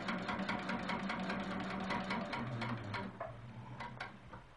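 A quilting sewing machine stitches white-on-white scallops, its fast, steady needle patter continuous and close, then slowing and thinning toward the end, with no voices.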